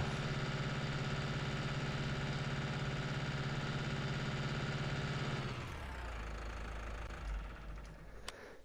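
A tractor engine in a video game drones heavily and steadily, then its pitch drops into a low, laboring rumble as it strains uphill, with a few clunks near the end.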